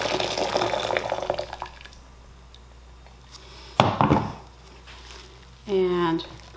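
Boiling water from an electric kettle pours and splashes into a crock pot in the opening seconds, followed by a brief clatter and a short rising fill sound near the end.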